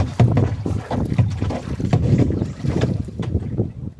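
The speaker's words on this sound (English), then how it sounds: "I'm paddling backwards." A canoe is paddled backwards on Talladega Creek: repeated soft paddle strokes and water splashes close by, with light wind buffeting over them.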